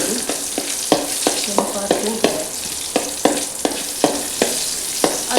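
Garlic and bird's-eye chillies tempering in hot coconut oil, a steady close sizzle broken by sharp, regular stirring clicks against the pan for several seconds, with no voices.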